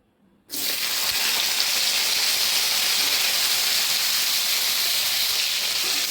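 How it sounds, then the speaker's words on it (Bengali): Broad beans dropped into hot oil in a wok, an abrupt burst of loud, dense sizzling and hissing that holds steady throughout. "কড়াই তেলটা গরম হয়ে গেছে, আমি এবারে সিমগুলো ভেজে নেব"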